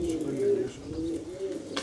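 Pigeons softly cooing in a rhythmic, low repeated call at a pigeon loft in Valencia, with quiet background noise.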